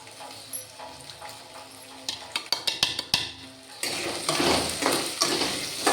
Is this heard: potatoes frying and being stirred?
yes